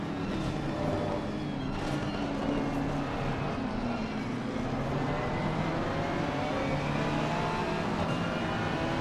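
GT3 race cars overtaking slower backmarkers at Bathurst in Assetto Corsa Competizione, a steady blend of engine drone with rising and falling revs from several cars running close together, loud and continuous throughout.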